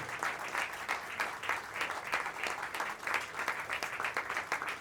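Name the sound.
audience applause at a mushaira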